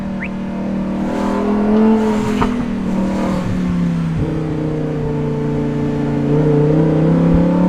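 A Lamborghini Huracan STO fitted with a titanium exhaust revs close by, its engine pitch sweeping up and down over several seconds with brief crackles between rises and no one speaking.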